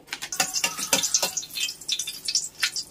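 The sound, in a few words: dried red chili frying in hot oil in a kadai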